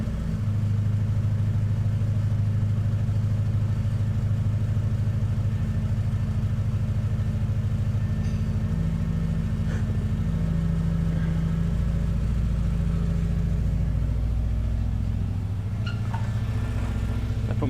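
A car engine, either a Honda or a Tiguan awaiting radiator work, runs steadily for the whole stretch, its low hum shifting in tone as it hunts and then settles into a smooth idle close by, with no talk.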